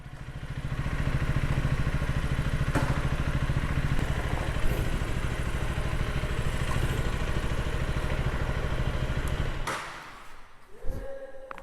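A KTM Duke 250 motorcycle engine idles close by for about ten seconds, a steady, loud low thrum, and then it cuts off, leaving faint clatter and quiet at the end.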